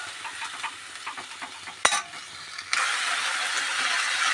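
Greens frying in a pan are stirred with a spatula, giving soft scraping and crackling over a low sizzle, then a sharp clack midway before the sizzle swells into a steady, louder hiss.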